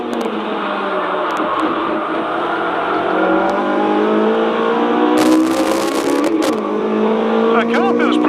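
A race car on a qualifying lap at Snetterton circuit holds a loud, steady engine drone that climbs in pitch through each gear and drops at the shifts, with a voice talking over it from inside the car.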